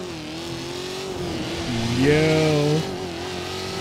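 A Z1 car in GTA 5 revs hard, its engine tone climbing and falling in a steady drone that swells near the middle, with a brief voice over it.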